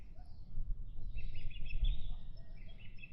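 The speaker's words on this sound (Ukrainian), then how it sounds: "Послухайте тільки що ті пташки витворяють" Birds chirp and sing outdoors in a steady, busy chorus of high calls, moderately near, over a low rumbling background with no talking.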